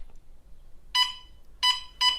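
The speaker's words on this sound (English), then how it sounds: "an alarm sounds warning you to get out." A plug-in household gas detector alarm, an inexpensive unit placed near a gas appliance, emits three loud electronic beeps, the first alone and the last two closer together, against a quiet background.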